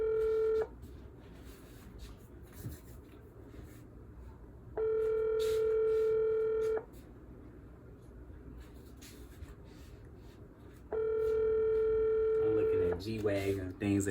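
A phone's ringing tone sounds twice, each a long steady electronic burr of about two seconds separated by a quiet pause, with faint background noise.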